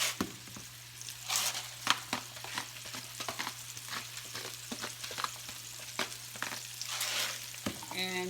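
Meatballs frying in a pan, giving a continuous close sizzle broken by crackles and pops as they are turned, with a low steady hum underneath.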